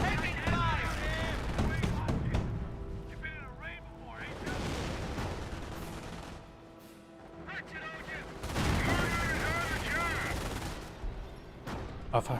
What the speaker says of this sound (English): Looks like the artillery barrage completely missed the bunker.